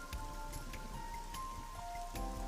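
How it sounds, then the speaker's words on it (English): Steady rain pattering on a taut fabric parasol in the video game AI: The Somnium Files, a dense continuous drumming with occasional heavier drops, close by and without voices. "The parasol's getting pelted by the rain."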